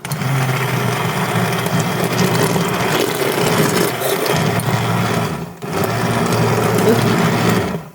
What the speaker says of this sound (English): So I'll run the immersion blender through there while it's boiling.